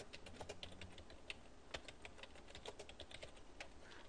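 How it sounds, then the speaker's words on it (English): Fingers tap on a computer keyboard in quick, uneven clicks, a soft close patter with occasional sharper keystrokes over a faint background hum. "I can come over here and type my document"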